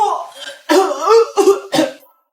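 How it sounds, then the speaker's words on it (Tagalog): A few harsh, throaty coughs in quick succession, close by, with a brief voiced sound before them. "Oh, ayan na. Inuubo na."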